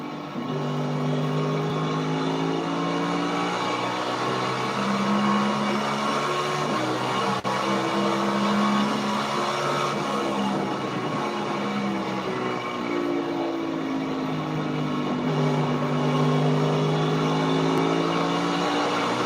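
A Toyota stock car engine heard onboard Christopher Bell's car, a steady loud drone that rises and falls through gear changes and corners for the full stretch, with no talking.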